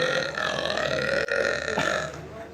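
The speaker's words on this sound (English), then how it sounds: "he kept doing these long, sick burps" One long, loud, gravelly burp, close and drawn out for more than two seconds, rasping steadily before it trails off.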